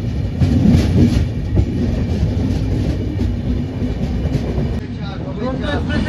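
A Duronto Express passenger train on the Howrah to SMVD route runs on rails with a loud, continuous rumble and clickety-clack from inside the carriage, and a voice begins talking near the end.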